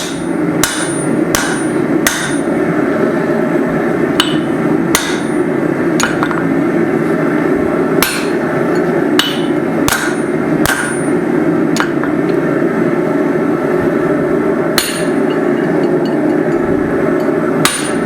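Hammer blows ring out sharply on an anvil while forging a micro hatchet, loud metallic strikes in irregular bursts, sometimes doubled, over a steady roar of background noise.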